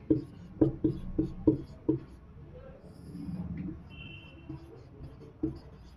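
A pen writes by hand on paper, with a quick series of sharp taps and strokes followed by softer scratching, close and quiet, while a voice speaks faintly in the background.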